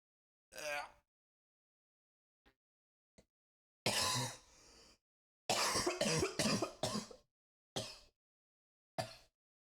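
Several harsh coughs ring out in quick clusters, with a short burst first and a few isolated throat noises between bouts, loud and close against silence.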